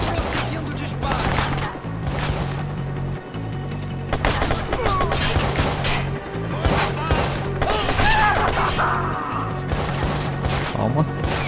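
Gunfire in the Watch Dogs video game: loud, rapid bursts of shots and automatic fire crack repeatedly across the scene, mixed with crashes and impacts, while a voice talks intermittently underneath.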